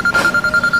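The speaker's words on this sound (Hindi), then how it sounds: "फोन आवत है यार देखी" A phone rings with a rapid, pulsing electronic trill, evenly repeating bursts, fairly loud and close, with no talk over it.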